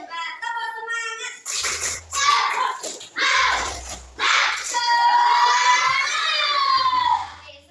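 Classroom children perform a spirit clap chant, a loud group of young voices shouting in rhythm with bursts of clapping, following a teacher's voice at the start.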